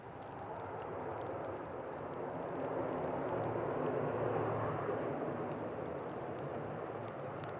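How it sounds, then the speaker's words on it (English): An Embraer Phenom 300 business jet near the runway at Manchester Airport gives a steady, broad engine roar that swells slightly mid-way, heard from a distance, continuous and fairly faint. "Got a BizJet from Frankfurt. It is an Embraer Phenom"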